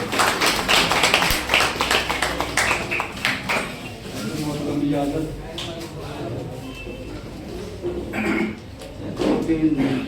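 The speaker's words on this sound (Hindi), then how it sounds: "मैं जोरदार तालियों से आप शहादत अली निज़ामी का इस्तेमाल फरमाएं।" Audience at a mushaira applauds a poet with bursts of dense clapping at the start and again near the end, loud and close, while someone speaks through the middle.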